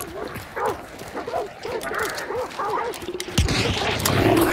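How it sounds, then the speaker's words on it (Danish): Dogs bark and yip repeatedly in the game Hunt: Showdown, a run of close, rhythmic barks over game ambience, followed by louder bangs and noise. "Hvor er der så mange hunde, mand?"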